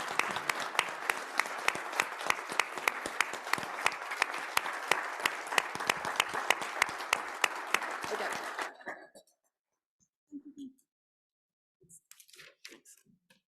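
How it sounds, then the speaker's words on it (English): A standing audience applauds at a Kiwanis club meeting, a sustained burst of many hands clapping for about nine seconds before fading into near silence with a few faint sounds after. "let us all Kiwanians stand and applaud you all."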